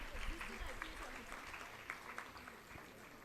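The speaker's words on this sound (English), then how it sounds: "Let's give a big round of applause for Shri Archit Parag Dongre." Faint, distant applause rattles steadily throughout, a soft crowd clapping at an award ceremony for UPSC rank holders, with a voice faintly audible underneath.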